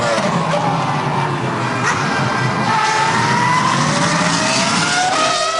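Formula 1 cars race at the European Grand Prix, with Kimi Raikkonen's McLaren out in front. A loud, continuous high engine whine sweeps up and down in pitch as the cars pass, close and unbroken throughout.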